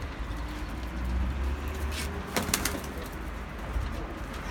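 Pigeons coo softly in low repeated murmurs against a steady outdoor background, with a brief flutter partway through.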